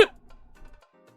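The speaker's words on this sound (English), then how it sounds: "I got the hiccup." A single sharp hiccup bursts out at the start, loud and close, followed by faint rustling and murmur as it dies away.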